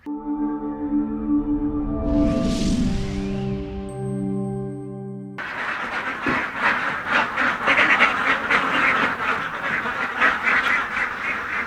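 Ducks quacking on a duck farm: a rising chorus of overlapping calls, close and loud, continuing steadily over several seconds with busy farmyard clatter.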